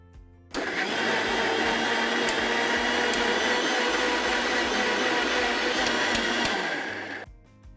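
A spice grinder whirs steadily at full speed, blending a spice mix for a chicken appetizer, starting abruptly and running loud and continuous for several seconds before cutting off.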